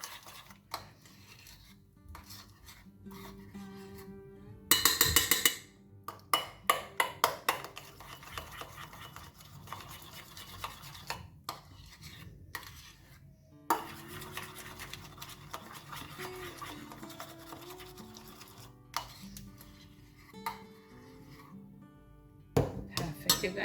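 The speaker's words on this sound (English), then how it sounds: "Give it a good stir." Chocolate-scented whipped candle wax stirred and scraped around a bowl's edges, giving soft repeated scraping and light clinking with a few sharper knocks, close and fairly quiet.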